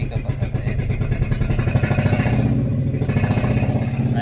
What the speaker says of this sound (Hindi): साइलेंसर इसका खुला हुआ है, इसके वजह से इसका ज़्यादा साउंड है।